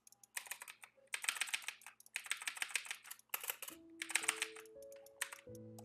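Rapid typing on a computer keyboard comes in close bursts of clicky keystrokes separated by brief pauses, with a faint electronic tone near the end and no talking.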